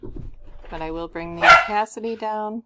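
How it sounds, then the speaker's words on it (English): A pet dog gives a quick bark or yip mid-sentence, landing briefly on top of a person speaking steadily indoors. "Sorry, that's my dog."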